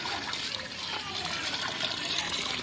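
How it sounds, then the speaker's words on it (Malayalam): Water trickles and splashes steadily throughout at a moderate level as it is poured into boiled tamarind seeds for buffalo feed, with a faint background of room noise. "വെള്ളം ഒഴിച്ചു കൊടുക്കണം"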